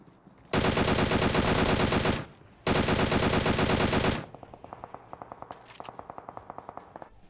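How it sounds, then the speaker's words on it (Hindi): Automatic gunfire from a distant enemy in a battle-royale video game, with two long sustained bursts of rapid shots followed by a sparser run of quicker, lighter pops. "कोई दूर से भी गोलियां चला रहा है हम पे"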